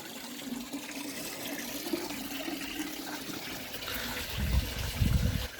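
Steady running water trickles and splashes continuously through a DIY pond bog filter fed by a solar-powered pump, with a few louder gurgling bursts toward the end.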